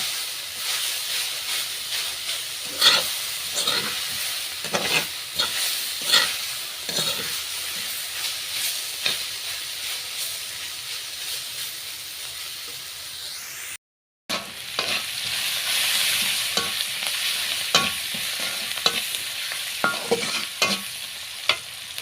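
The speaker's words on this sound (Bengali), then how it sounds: "এখানে গিমা শাক ভাজি করছি।" Gima greens stir-frying in a home kitchen pan give a steady bright sizzle and hiss, broken by repeated scraping stirs of a spatula; a brief dropout near the middle, no talk.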